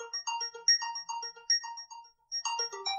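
Phone ringtone from an incoming call plays alone and fairly loud: a bright repeating melodic tone pattern of short chimed notes, pausing briefly before starting again.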